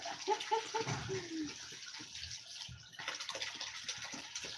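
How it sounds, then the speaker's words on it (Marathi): Water splashes and pours steadily for several seconds, a close, continuous wet rush with some clattering underneath, as water is poured over amaranth greens. "परत ओटते बघा पाणी"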